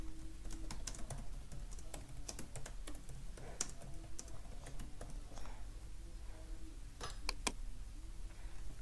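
Typing on a computer keyboard for a list of Roblox dares: steady close-up key clicks in irregular bursts, with a few louder taps near the end over a low background hum.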